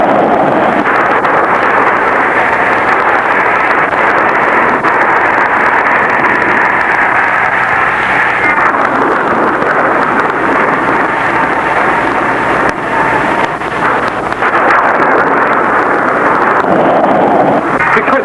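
Storm wind roars continuously and loudly for the whole stretch, a dense, unbroken rushing howl with slight swells and no voices.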